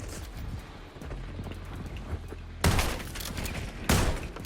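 Gunfire in a Call of Duty match: a low battle rumble with scattered small shots, then two loud, close bursts of rapid fire.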